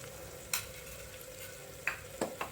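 Spoon stirring chili powder into hot tempering oil with asafoetida in an Indian kitchen, a soft steady sizzle with a few sharp scraping clicks of the spoon against the pan.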